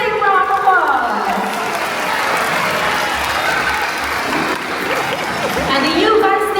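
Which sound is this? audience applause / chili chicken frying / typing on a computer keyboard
audience applause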